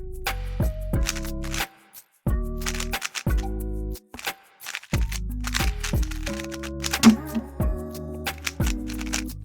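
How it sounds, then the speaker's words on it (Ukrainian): A speed cube being solved against a smart timer gives off rapid, clattering plastic clicks in quick bursts, layered over steady pitched background music. "І тепер можна складати кубик на швидкість."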